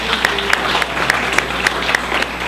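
A room of people at a marketing talk gives a guest speaker a round of applause, dense clapping with some sharper individual claps standing out, steady and fairly loud throughout.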